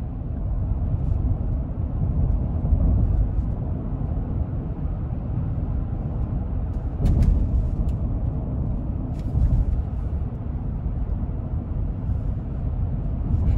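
Cabin of a 2020 Chevy Suburban Premier RST with a 6.2L engine on a bumpy back road, a continuous deep rumble of road and engine noise with a few brief knocks from the bumps, steady and close.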